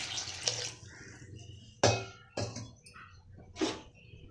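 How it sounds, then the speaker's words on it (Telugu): Water splashes and pours in a few short bursts into a pressure cooker holding ridge gourd, lentils, tamarind and turmeric, with brief pauses between, close and fairly clear. "వాటర్ వేసుకోవాలి"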